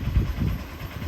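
A tractor engine idles on a farm, giving a brief low, throbbing rumble at moderate volume.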